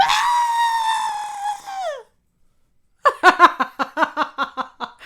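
A voice imitates girls screaming in a movie theater, letting out one long high shriek that falls away into silence, followed by a burst of rhythmic, choppy giggling.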